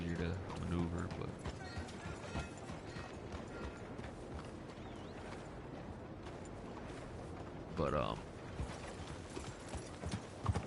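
Horse hooves clip-clop steadily at a walking pace in Red Dead Redemption 2, close and even, with someone talking over them and a brief louder burst near the end.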